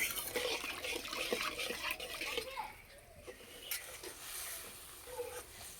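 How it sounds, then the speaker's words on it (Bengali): Salted watery broth heats in a pot for a semolina and potato snack, giving a soft bubbling, sloshing wash that is fuller at first and then thins to quieter gurgles. "ঝোল ভালো করে ফুটিয়ে নেব।"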